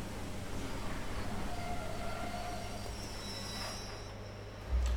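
A locomotive on the Keighley and Worth Valley Railway works hard from a standing start on a tight 90-degree curve, giving a faint steady rumble with brief high wheel squeals and a louder thump near the end.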